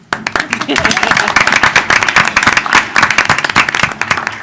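Dense, loud applause fills a council meeting chamber after a ceremonial proclamation, with rapid overlapping claps that run steadily throughout.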